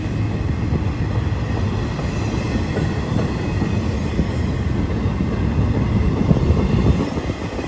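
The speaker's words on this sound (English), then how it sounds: "Hey, this is a good train though." A freight train rumbles steadily past, with continuous low roaring and rattling of wheels on rails, loud and close throughout without pause.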